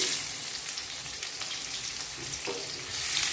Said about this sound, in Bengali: পেঁয়াজটা একটু লাল লাল করে ভেজে নিচ্ছি